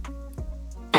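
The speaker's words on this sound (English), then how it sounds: "That was a cough." A single short cough during a casual conversation between two people, sharp and close, preceded by softer throat noises and a low background hum.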